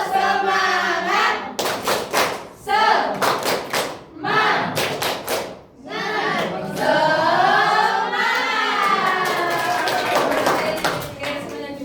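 A class of children does a spirited clapping chant with a teacher, clapping in a quick rhythmic pattern, with loud bursts of hand claps between stretches of chanting voices.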